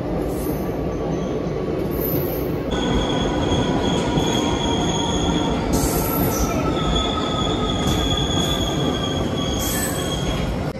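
A train rumbles steadily with loud metallic wheel squeal and high screeching tones rising over the continuous roar, close and sustained throughout.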